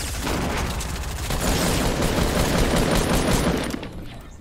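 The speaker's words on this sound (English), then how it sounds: "Oh, he's got an SMG." Rapid, dense submachine-gun fire in Fortnite, loud and continuous for several seconds before tapering off at the end, with no speech over it.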